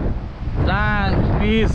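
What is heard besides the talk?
cold wind blowing by the Koshi river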